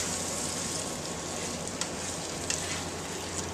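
Slow cooker salsa chili stirred in a pot gives a low, continuous simmering sizzle, broken by a few light scrapes and clicks of the spoon.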